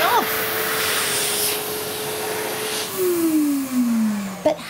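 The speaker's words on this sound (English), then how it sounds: "the hand dryer will turn on without us even having to press a button, like this" An automatic hand dryer blows air with a loud, steady roaring whoosh that runs for several seconds, then winds down with a falling whine near the end.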